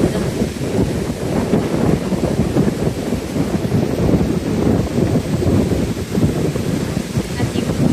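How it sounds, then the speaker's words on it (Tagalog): Loud, continuous roar of surf at Laomei Green Reef with heavy broadband rumble, waves churning and crashing steadily throughout, close and powerful, with wind buffeting the microphone. "Malakas na hampas ng alon."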